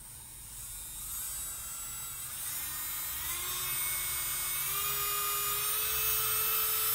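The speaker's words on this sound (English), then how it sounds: "you should not be running your e-file this high, but even then it still doesn't sound that loud" A MelodySusie Scarlet electric nail drill run at high speed whirs up, its high whine rising steadily in pitch and loudness, close and continuous with no talking.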